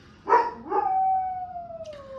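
A dog gives one close, clear howl that starts with a short yelp, rises, then holds a long, slowly falling tone for nearly two seconds, with only quiet background around it.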